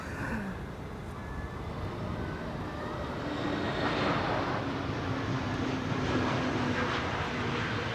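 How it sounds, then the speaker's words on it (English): An Embraer Praetor 600 business jet at Amsterdam Schiphol Airport gives off a steady, broad jet engine roar that swells slightly louder midway and holds, with a faint rising whine tone, no voices. "What a nice little BizJet. Embraer Praetor 600."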